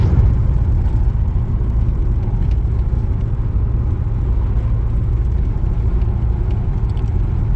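A newly bought car, slightly wobbly, cruises along the road on a road trip: a steady, unbroken engine rumble and road noise, loud and close throughout.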